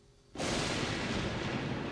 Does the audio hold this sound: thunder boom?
yes